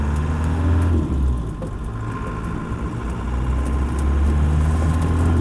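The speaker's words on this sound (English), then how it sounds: "Obviously the 200 TDI engine is beautifully torquey," A Land Rover 90 County Station Wagon with a 200TDi diesel pulls away on a farm track, its deep engine drone steady and close, swelling slightly as it gathers speed.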